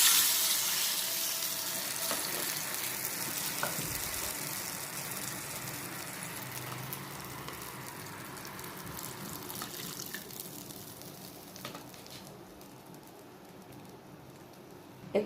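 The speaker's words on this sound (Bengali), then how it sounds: "তেঁতুলের রসটা দিয়ে দিই" Tamarind juice poured into a pan while making dahi vada, a continuous splashing liquid flow that fades gradually over a steady background hiss, ending with a small clatter.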